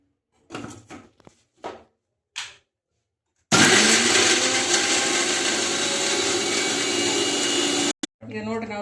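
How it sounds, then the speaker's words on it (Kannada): A person speaks briefly. Then a kitchen mixer grinder loaded with mint, a small piece of onion and four garlic cloves roars loud and steady for about four seconds, stops abruptly, and gives a short final burst. "ಬರೀ ಇದನ್ನ ಈಗ ರುಬ್ಕೊಂಬರೋಣಂತ"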